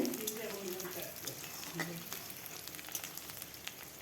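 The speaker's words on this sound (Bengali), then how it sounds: "তেজপাতা কেটে রাখা পেঁয়াজ দিয়ে ভালো করে ভেজে নেব" Sliced onion and bay leaf fry in oil with a close, steady sizzle and spitting crackle, dense and continuous with faint scraping of stirring beneath.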